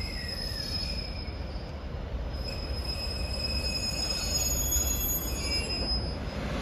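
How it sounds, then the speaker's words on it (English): Northern class 156 diesel unit 156471 pulling into Middlesbrough station with a steady low rumble and drawn-out high wheel squeals, loud and continuous throughout. "arriving in at the same time is the 11:47 Northern service from Saltburn to Darlington"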